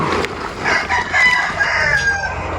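A flock of hungry chickens squawks and clucks noisily while being fed, a dense continuous chatter of many birds close by with one higher call standing out briefly.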